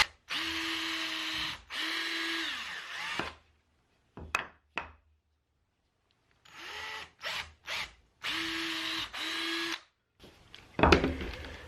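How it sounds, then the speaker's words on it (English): A power drill pre-drills wood in several short bursts, whirring steady and close, separated by pauses, clicks and handling noises. "just a real quick pre-drill"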